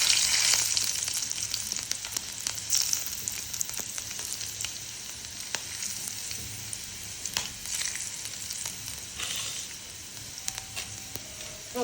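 Garlic and chillies hit hot oil seasoned with asafoetida for a sev tomato curry, giving a steady, soft sizzle with crackling pops and occasional stirring scrapes, heard close and alone.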